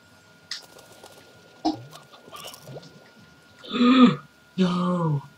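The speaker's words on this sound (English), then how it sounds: "Don't worry, little hen." A hen clucks in the Slime Rancher video game, with scattered soft game noises before two louder, sustained clucking bursts near the end.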